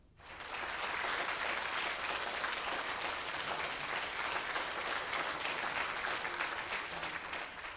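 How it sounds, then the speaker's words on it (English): Sustained applause from the audience honoring graduates at a Bryant & Stratton College graduation ceremony in Albany, a steady wash of many clapping hands holding for several seconds after a brief quiet start. "Let's give our graduates a round of applause."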